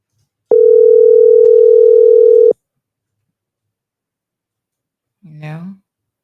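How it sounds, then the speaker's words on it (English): WhatsApp voice call on a new phone: one steady ringing tone lasts about two seconds and then stops, followed by silence and a short voice at the end. "Yeah, let's do a WhatsApp call."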